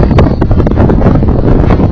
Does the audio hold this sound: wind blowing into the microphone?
yes